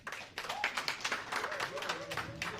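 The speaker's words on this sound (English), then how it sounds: "I think we can do more with the applause" Audience applause at a parliamentary candidacy declaration for a Sierra Leone constituency: a soft, steady patter of clapping from a modest crowd, fairly quiet and distant, with voices talking over it.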